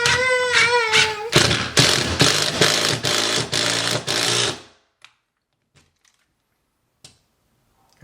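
An impact driver fitted with a 1/2-inch socket hammers in a loud rapid rattle for several seconds, close by, after a brief rising whine, then stops, leaving near silence with a few faint taps.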